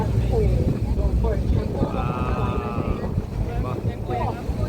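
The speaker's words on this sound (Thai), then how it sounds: "มี เสียงลม นะครับผม" Steady wind buffeting a microphone on the deck of a boat on the Chao Phraya River, a low rumbling roar throughout, with a faint engine hum and distant voices underneath.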